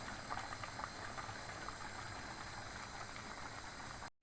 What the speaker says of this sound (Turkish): Evet sebzelerimizin üzerlerine az su koyduk. Tuz attık. Bu şekilde kaynatıyoruz.